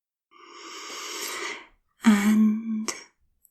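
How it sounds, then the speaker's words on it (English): A person draws a slow, audible deep breath in during a guided relaxation exercise, then makes a short, voiced throat sound. "Deep breath in now."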